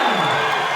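A brief roar of a fight crowd cheering at a 68kg bout, dense and loud, filling the whole moment without a break.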